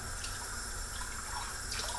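Water streams steadily into a pot of homemade chili, a continuous soft, close pour heard alone for a couple of seconds.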